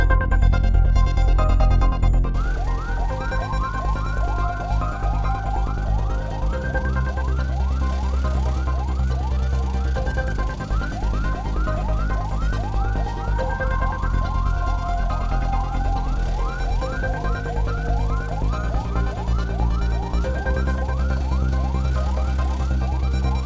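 Edhi Foundation ambulance siren wailing in a fast, continuous warble, loud and close over a low engine rumble, with no talk.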